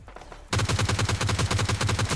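Rapid automatic gunfire in PUBG Lite, a loud, fast burst of evenly spaced shots that starts suddenly after a quiet moment and continues steadily to the end, close and dominant.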